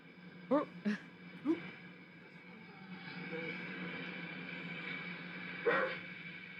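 A person imitates a dog with a few short, sharp barks, three in quick succession, then one more after a pause, over a low background hum.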